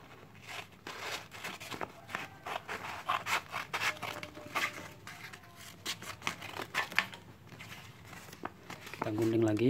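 Scissors cut sheets of fine 600-grit sandpaper for a motorcycle fuel tank repair, making close, crisp snips and papery crinkles in quick irregular bursts, with quiet talk at times.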